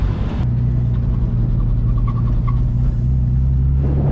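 A turbocharged BMW E30 with an M52 engine making 515 wheel horsepower runs steadily nearby, a deep droning rumble with a few faint higher chirps partway through and no voices.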